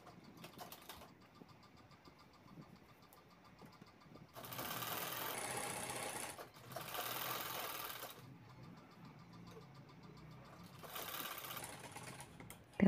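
Sewing machine stitching the second side of a zipper onto a fabric handbag, heard in three close, moderately loud bursts of steady whirring, separated by quiet pauses with faint handling noise.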